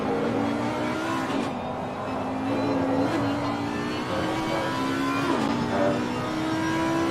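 A V10 GT3 race car engine revs hard and loud, its high, sustained wail rising and falling through several gear changes over seven seconds, with no voices over it.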